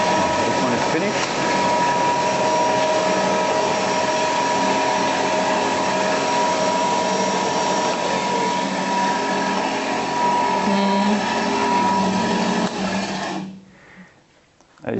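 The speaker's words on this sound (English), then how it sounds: "it's connected to a vacuum cleaner, to a cyclone, and here we can collect the sample in this glass" A sample preparation machine runs with a vacuum cleaner and cyclone attached, giving a loud, steady motorized whine and airflow roar that holds for about thirteen seconds before cutting off abruptly.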